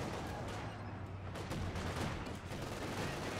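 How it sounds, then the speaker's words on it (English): Machine gun fire in a competitive real-time strategy game, a steady, dense rattle of overlapping bursts at a moderate distance, sustained throughout with a few sharper cracks standing out. "MGs can shut down your entire push"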